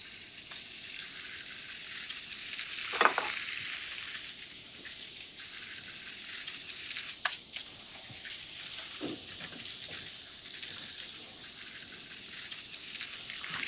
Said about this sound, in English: we're gonna go ahead and lay our sole in